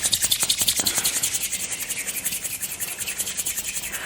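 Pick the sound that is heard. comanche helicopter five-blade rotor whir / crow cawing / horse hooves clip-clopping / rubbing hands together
rubbing hands together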